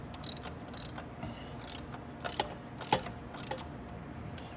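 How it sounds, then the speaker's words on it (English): A ratchet, with a wrench slipped over its handle for leverage, loosens the motor bolts on a Venom E-Racer 1000W kids electric ATV. Several bursts of close, sharp clicking ratchet sweeps come at an uneven pace. "I just took a wrench and put it on the bottom of my ratchet here"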